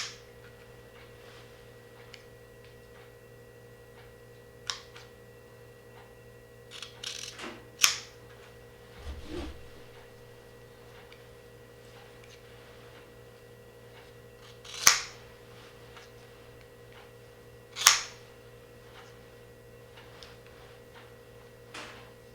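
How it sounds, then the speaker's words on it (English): A few sharp, close snips of scissors cutting strands of Samson 16-strand Arborfreak rope at an angle, spaced several seconds apart over faint handling rustle and a steady background hum. "Then we'll just take our scissors, cut them off at a slight angle."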